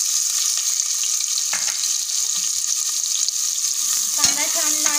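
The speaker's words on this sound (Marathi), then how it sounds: "तेल गरम झालं आहे, त्यातमध्ये आपण मोहरी आणि जिरे घालत आहोत" Mustard seeds and cumin sizzle in hot oil inside a pressure cooker for dal khichdi. A steady, close frying hiss runs throughout, with a few light clinks and spatters near the end.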